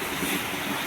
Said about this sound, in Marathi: एवढा वादळ वारा इला बघ.